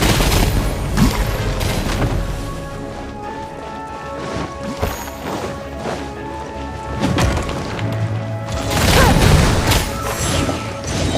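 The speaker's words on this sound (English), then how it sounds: "Wow, it's Madame Ping's shockwave!" A video game shockwave attack effect from the character Madame Ping, heard as a dense, loud burst of crashing, booming impacts with bursts of gunfire-like crackle, swelling again near the end, with no speech over it.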